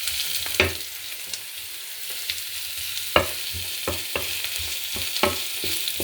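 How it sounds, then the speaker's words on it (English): Garlic and onion fry together in a pan, giving a steady close sizzle broken by several sharp stirring clacks and scrapes against the pan. "I add a little bit the onion, and they are now cooking together"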